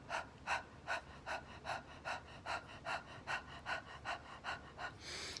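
Rapid, energetic breathing exercise: about a dozen sharp, evenly spaced breaths in and out, rhythmic and close, with no talking.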